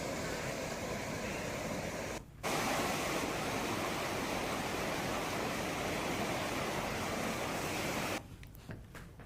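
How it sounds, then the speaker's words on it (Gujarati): The Hiran river at Talala in Gir, flooded after torrential monsoon rain, rushes with a dense, continuous roar of churning water, broken by brief cuts, and no voices. "ગીરમાં મુશળધાર વરસાદ પડતા તાલાલાની હિરણ નદીમાં પૂર આવ્યું"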